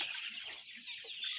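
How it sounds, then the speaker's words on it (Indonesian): Arab chickens cluck in a coop, a steady mix of soft, overlapping clucks and calls from several birds at moderate distance, with no talk. "Ini ayam yang kita tangkap tadi malam."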